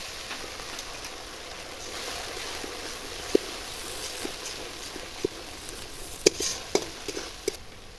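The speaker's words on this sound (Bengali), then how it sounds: "এবার মশলাগুলো ভালো করে কষিয়ে নেব।" Ground spice paste for a fish curry fries and is stirred in a pan, a steady soft sizzle with scattered light scrapes and clicks of the spoon growing more frequent toward the end; no talking.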